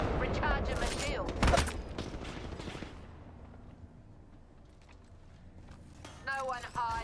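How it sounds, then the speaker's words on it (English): Rapid gunfire bursts from an Apex Legends match crackle loudly through the first few seconds, then fade into quieter game ambience before a voice speaks near the end. "Keep shooting at me."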